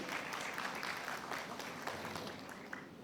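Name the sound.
audience applause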